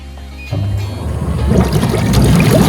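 A low motor hum gives way to bubbling, churning water as jets of air start up and grow steadily louder in a freestanding 1.7 m whirlpool bathtub with eight air-bubble massage jets.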